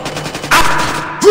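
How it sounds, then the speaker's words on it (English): Gunfire in the Splinter Cell video game, a loud close burst of rapid shots ending in a sharp blast, with a voice briefly under it. "I'm pretty sure I just shot you a lot."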